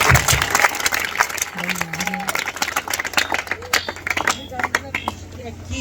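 A church congregation at a faith and miracle service applauds loudly, with dense, sustained clapping that thins toward the end while a voice carries over it.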